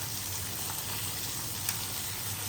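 A masala omelette with onion and tomato fries in a pan, giving a soft, even sizzle that holds steady for a couple of seconds with no voices.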